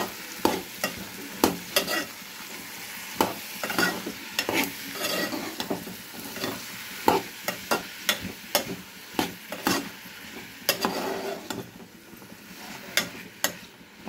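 Bottle gourd pieces with turmeric and salt stirred in a pan, a spoon scraping and knocking in quick irregular strokes over a soft steady sizzle, close and alone.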